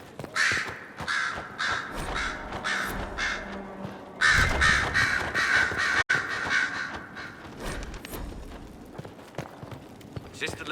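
Crows caw repeatedly in the video game Dragon Age: Inquisition, mixed with clip-clopping hooves and background voices in a busy outdoor scene, the calls fairly loud and close throughout.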